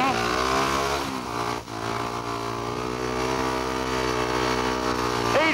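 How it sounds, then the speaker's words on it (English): Speedway motorcycle held at high revs at the start gate, a loud, sustained buzzing engine note with a brief dip and a rising rev at the end, close by. "On the heavy gate, you just got to wind her up quite a bit and just drop the clutch, not feed it out at all."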